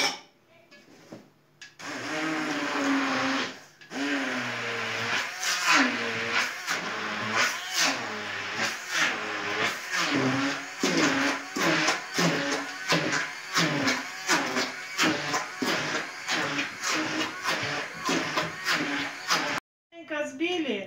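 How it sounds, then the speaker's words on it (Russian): An immersion blender whips cottage cheese with eggs, sugar, vanilla and baking powder, a loud continuous motor whir that pulses as the blade is moved up and down through the mixture for about twenty seconds. "Взбиваем все погружным блендером."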